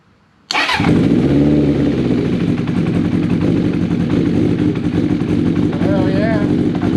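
1980 Honda CB 750 K motorcycle engine, tried without the choke, cranks and fires up after a brief silence, then runs at a loud, steady idle with a few small revs close by.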